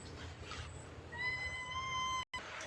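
A cat meows once near a Buddhist temple in Chae Hom, Lampang, a clear, drawn-out, rising-then-steady cry lasting about a second over quiet outdoor background.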